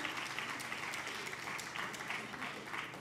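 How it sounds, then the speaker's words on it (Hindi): An audience at a ceremony in a hall claps steadily in dense, sustained applause, the crowded patter holding at an even level throughout with no voices standing out. "तालियां कमज़ोर पड़ रही हैं"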